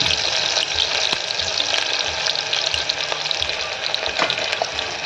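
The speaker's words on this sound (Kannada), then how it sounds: "ಈರುಳ್ಳಿ ಚೆನ್ನಾಗಿ ಫ್ರೈ ಆಗಿ ಆಮೇಲೆ ನಂತರ ಬೇರೆ ಹಾಕೋಣ" Onions frying in oil for tomato pulao, a dense, steady crackling sizzle close to the pan that continues throughout with small pops and no one speaking.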